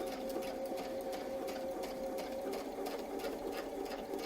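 A sewing machine stitches around a small quilt feather template, its steady rapid needle hum running close and continuous throughout with no voices.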